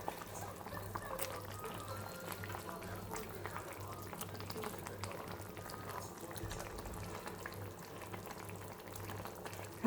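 A village-style egg curry with drumsticks simmers in a pot, a soft continuous bubbling and gurgling heard close by at low volume with faint background hum.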